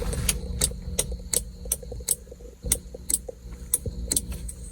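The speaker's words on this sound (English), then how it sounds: "I heard my motor clicking." The sunroof motor of a 1984 Porsche 928S gives off rapid, irregular clicks and ticks over a low mechanical hum, the sharp snaps close and repeating unevenly throughout.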